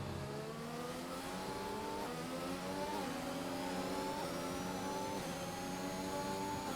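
Racing car engine in an F1 video game at Imola, a steady high-pitched whine with rising and shifting harmonics as the car revs through gears, continuous and loud with no talk.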